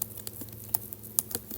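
Soft, irregular taps on an iPad's on-screen keyboard as a code comment is typed in Swift Playgrounds, faint and close, with a few sharper taps among quieter ones.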